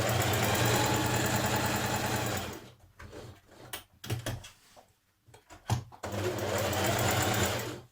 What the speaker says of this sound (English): we're going to do a line of stitching. So put it on a large stitch, straight stitch.